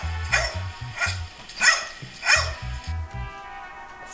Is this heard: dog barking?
yes